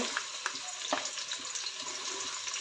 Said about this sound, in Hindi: अब इसमें हम प्याज ऐड करेंगे।